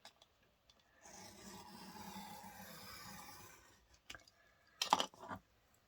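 A blade trims the edge of a handmade greeting card, a soft, continuous scraping rasp for a few seconds, followed by small clicks and a brief louder tap, close and quiet.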